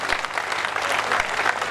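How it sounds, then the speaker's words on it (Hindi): A burst of audience applause, dense and sustained clapping from a large crowd at a Ganesh Chaturthi poetry gathering in Kishangarh Renwal, India. "जरा आसमान में हाथ उठाकर आपकी तालियां चाहता हूं।"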